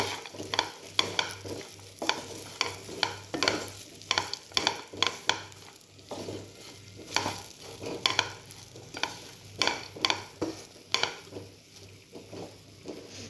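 Okra masala fry is stirred in a pan, a spatula scraping and clacking in steady repeated strokes over a soft continuous sizzle, close and clear with no talking.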